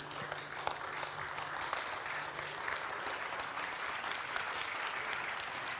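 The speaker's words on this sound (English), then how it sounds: "Please clap together, everyone on the stage." A group of participants on stage at a business forum claps together, steady dense applause filling the whole stretch at an even level.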